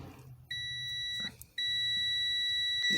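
Multimeter continuity beeps while testing connector wires on a Toyota Camry with an immobilizer fault, two loud steady electronic tones, a short one then a longer one, with a brief gap between.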